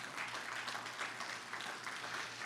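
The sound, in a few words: applause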